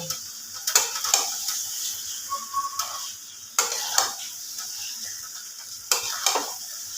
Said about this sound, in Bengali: গ্যাসের ফ্লেমটা একটু জোর করে মাংসটাকে আমি ভীষণ ভালোভাবে কষিয়ে নেব